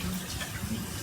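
Tap water runs softly into a sink while something is rinsed under it, a faint, steady hiss with a low splash, quiet and fairly close, no voices over it.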